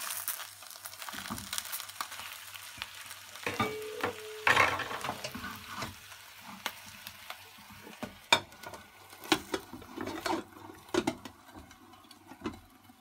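Boneless fish fries in a covered pan, a soft continuous sizzle with scattered pops and crackles, plus a few sharper clicks and clatters of a lid or utensil.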